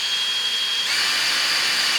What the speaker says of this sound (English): I'm just using a drill bit, which actually works pretty well